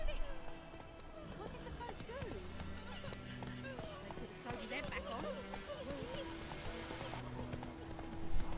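Horse hooves trotting in The Witcher 3, a steady clip-clop rhythm under game music while someone talks over it throughout.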